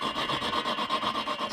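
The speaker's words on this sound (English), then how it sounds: "Start lapping." Valve being lapped into its seat on a VW 1300 cylinder head, a steady rhythmic back-and-forth grinding rasp repeating about every fifth of a second, close and continuous with no talking.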